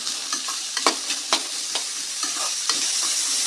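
Cluster beans sautéing in oil for a kothavarangai poriyal, giving a steady close sizzle broken by several sharp scraping stir strokes.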